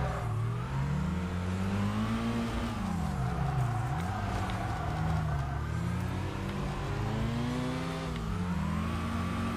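Race car engines in Tokyo Xtreme Racer Drift 2, a continuous whining drone with pitch sweeping up and down as cars rev and shift, steady and close throughout.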